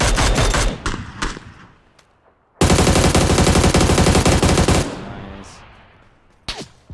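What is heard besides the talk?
gunshots in video game PUBG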